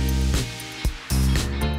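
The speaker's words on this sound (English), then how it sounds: "using the rattle can and spraying with that beautiful rhythmic motion, nice and evenly" A spray paint rattle can sprays paint onto a Mercedes Brabus SLK in rhythmic even passes, close hissing bursts with brief gaps between strokes.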